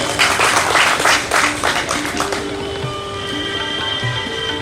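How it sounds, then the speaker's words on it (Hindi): An audience at a revolutionary anniversary gathering gives loud applause in honour of Bhagat Singh, dense clapping that fades out after a couple of seconds, followed by a sustained musical tone and a voice beginning to speak. "बस जोरदार तालियां उनके लिए हो जाएं"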